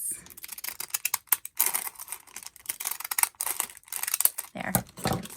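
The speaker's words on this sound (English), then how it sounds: "I like to just take these decorative edged scissors and cut this" Decorative edged scissors snip through a paper bag in quick, crisp, close cuts, coming in clustered bursts with short pauses between them, alone and fairly quiet.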